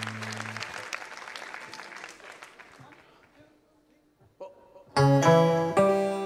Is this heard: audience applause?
yes